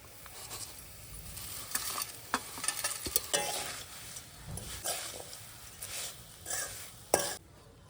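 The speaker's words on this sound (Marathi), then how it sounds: "फोडणी आपली झालेली आहे त्यामध्ये हे सर्व मिश्रण घालून घेऊया" A spoon scrapes and stirs a poha chivda mixture in a hot pan of tempering, with irregular clinks and a soft sizzle underneath, fairly quiet.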